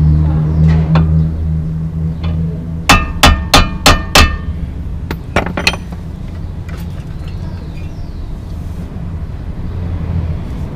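Five sharp metallic hammer blows in quick succession while a car's suspension arm is replaced, followed by a few more scattered strikes over a low engine-like rumble.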